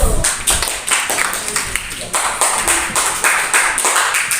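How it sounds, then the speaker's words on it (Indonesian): Classroom applause for a student group, close and lively, many hands clapping in a dense continuous patter with rhythmic accents, steady throughout. "Berikan aplaus dulu untuk kelompok pertimbangan dinamis."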